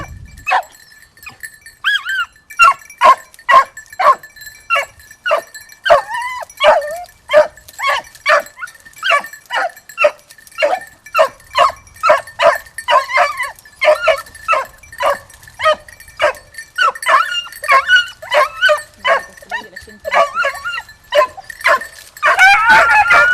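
Hunting dogs on a chase in the Languedoc-Roussillon countryside bark and yip in a rapid, steady stream of sharp, close calls lasting throughout, with some higher whining yelps mixed in and no talk over them.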